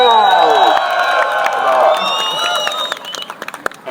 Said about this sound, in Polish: brawa dla wszystkich kibiców!